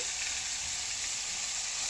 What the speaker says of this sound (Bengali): কাজুটা আমি এর মধ্যে দিয়ে দিলাম এর একসাথে ভাজা ভাজা হবে